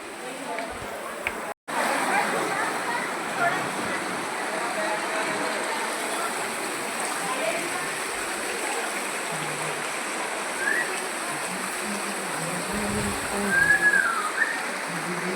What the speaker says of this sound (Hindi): देखना कितनी तेज़ी से पहाड़ों पर से आ रहा है ये पानी